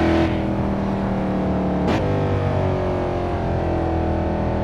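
A loud Mercedes C63 AMG W204 engine in the Assetto Corsa racing game drones steadily near at hand, its pitch holding through a cruise, with a brief sharp whoosh or shift sweep just before the two-second mark.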